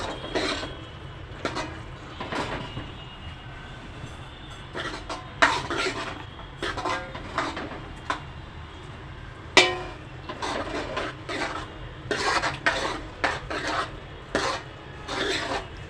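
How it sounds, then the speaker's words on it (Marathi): Spoon scraping and rubbing against a pan while boiled peas are stirred for misal, a quiet series of irregular rasping strokes, close by, without talk. "त्यामध्ये उकडलेले वाटाणे घाला छानपैकी मिक्स करा हळूवार"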